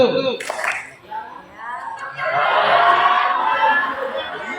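Students at a school leadership training event clap together once on command, a brief scattered burst of claps, followed by a room of children chattering and laughing; a voice speaks at the start.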